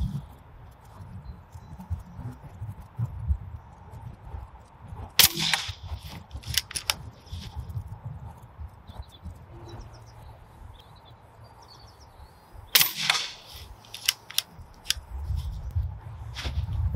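Daystate Alpha Wolf air rifle firing outdoors in strong wind, two sharp cracks several seconds apart standing out over a steady rumble of wind, with faint birdsong in the background.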